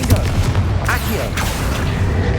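A Confringo blast spell fired in Hogwarts Legacy, heard as a couple of sharp booming bursts with crackling debris over a continuous, noisy game backdrop.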